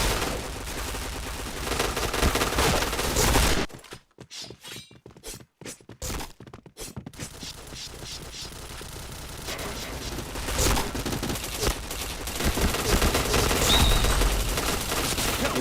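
Dense bursts of gunfire from the online shooter game Point Blank, rapid automatic volleys and shots filling most of the clip, with a near-silent gap of sharp isolated reports midway before the loud firing resumes.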